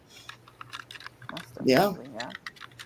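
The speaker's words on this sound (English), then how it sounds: "What is that? Someone typing." Computer keyboard typing in an indoor room, a run of quick light clicks spread across the clip beneath a short spoken word.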